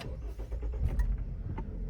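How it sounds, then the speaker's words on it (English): A Jeep Renegade engine cranks and catches in a short burst, heard from inside the car, settling into a low steady idle hum. "Let me go ahead and turn on the car"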